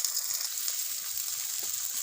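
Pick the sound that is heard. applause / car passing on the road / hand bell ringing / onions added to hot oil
onions added to hot oil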